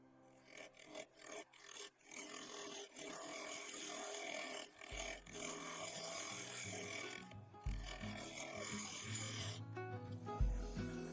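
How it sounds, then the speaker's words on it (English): A 3/8 bowl gouge cuts steadily into the underside of a shallow purple epoxy resin and yew dish spinning on a woodturning lathe, giving a continuous rasping, scraping sound that swells and dips in loudness. "I continued shaping the underside, this time using a 3/8 bowl gouge"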